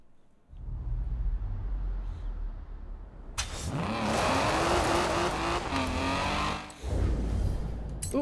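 A Peugeot 207 Super 2000 rally car in Forza Horizon 4 idles low, then its engine revs hard and climbs through rising pitch while tires squeal, holding a loud strained drone before easing off near the end.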